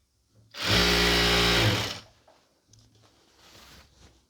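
A sewing machine stitches a pleated nightie in one loud, steady burst of motor whirring lasting about one and a half seconds. Quiet handling sounds follow.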